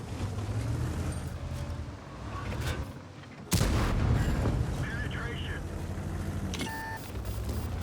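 A tank cannon fires an HE round in the World of Tanks video game, a sudden loud boom that cuts in partway through over rumbling battle ambience and engine noise, with a thin ringing tone after the blast.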